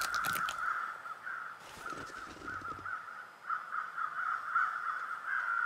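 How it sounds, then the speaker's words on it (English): Crows cawing while scavenging around an animal carcass outdoors, a loud burst of harsh caws at the start and again near two seconds, then a steady run of repeated calls fairly close by. "So that's the crows."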